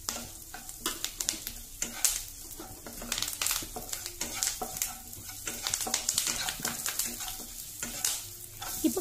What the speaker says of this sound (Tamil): இது எல்லாமே கொஞ்சம் மிதமான தீயிலையே வேகட்டும்,